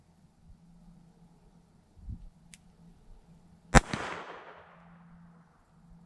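Single sharp crack of a pocket .22 pistol firing 38 grain ammunition, near and loud with a short ringing decay, preceded by a faint thump and a light click.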